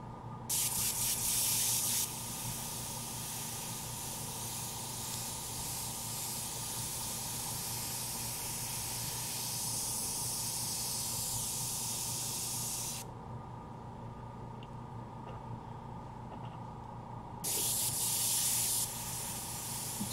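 An airbrush sprays alcohol ink paint over a full-face stencil with a continuous soft, airy hiss. Louder bursts come at the start and near the end, with a short lull between them, and no one talks.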